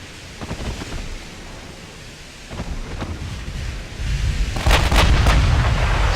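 Naval gunfire from battleship and cruiser guns, including 8-inch and 5-inch calibres, in the video game Ultimate Admiral: Dreadnoughts, heard as a rumbling, noisy barrage of heavy booms that swells louder toward the end with no speech.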